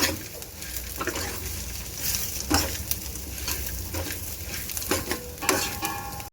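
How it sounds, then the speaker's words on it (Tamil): Roasted gram (pottukadalai) is stirred and fried in a pan for a coconut chutney, giving a continuous soft sizzle with scraping and tapping of a spoon against the pan at an irregular rhythm, close and steady. "பொட்டுக்கடலை சேர்த்து ஒரு நிமிஷம் அப்படியே கிளறி விட்டுக்கலாம்"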